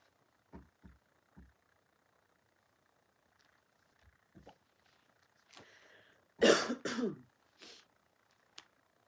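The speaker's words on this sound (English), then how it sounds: "let me just clear my throat" A few soft thumps and rustles lead up to a burst of harsh throat clearing and coughing close by, then quiet.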